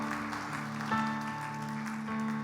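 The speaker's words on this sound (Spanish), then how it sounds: "Denle un fuerte aplauso al Señor, que es el que merece toda la gloria, toda la honra." A church congregation claps at the close of a worship service while sustained keyboard tones ring beneath. A few sharper clap accents break through the moderate, steady applause.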